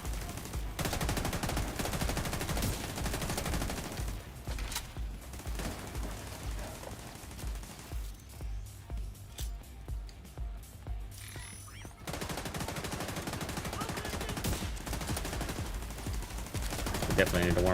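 Sustained gunfire in The Division 2, with rapid automatic bursts running through most of the stretch, a quieter gap of lighter pops in the middle, then heavy firing resuming loud and close.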